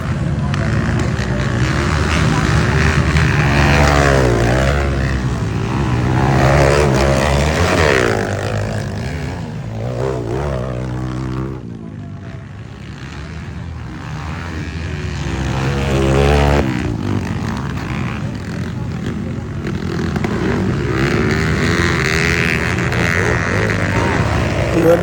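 A racing motorcycle with its silencer fallen off roars and revs close by at a village bike race. Its raw, loud engine note rises and falls in pitch, with crowd voices and commentary over it.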